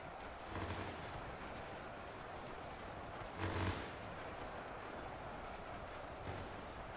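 Dense SMG fire crackles continuously in a large trench battle in Ultimate Epic Battle Simulator 2, a thick wash of many distant shots blending into a rumbling roar with a few louder swells.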